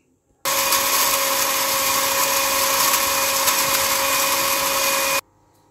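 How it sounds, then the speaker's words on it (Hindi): An electric spice grinder whirs loudly as it grinds chaat masala spices, starting abruptly, holding a steady high-pitched whine for about five seconds, then cutting off sharply. "अब बस सबसे पहले आपने इन तमाम चीज़ों को, टाटरी के अलावा सबको ग्राइंडर में आपने ग्राइंड कर लेना है।"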